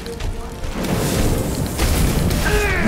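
A weapon fires in Resident Evil 2, a loud booming blast with a crashing tail that fills the short moment, close and heavy.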